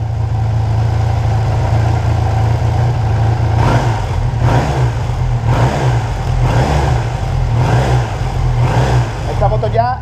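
Honda CB 450 DX motorcycle engine running steadily at about 1500 rpm during carburetor tuning, a loud continuous low drone with a rhythmic pulsing pattern throughout.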